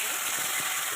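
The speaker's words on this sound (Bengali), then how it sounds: "এখন টমেটোটা ঢেলে দেবো।" Tomato hits hot oil already holding bay leaves, dried red chilies and panch phoron, making a steady broad sizzle that holds at even loudness for a moment.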